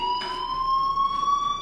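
Fire alarm ringing in the game Life is Strange: a steady, piercing electronic tone sustained without break, with faint bursts of static-like noise behind it and no speech.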